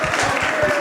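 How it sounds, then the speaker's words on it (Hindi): Loud applause from a crowd at a TV team's five-year celebration, rhythmic clapping bursts filling the moment without speech. "एक बार महाराष्ट्र कॉफी के लिए जोरदार तालियां"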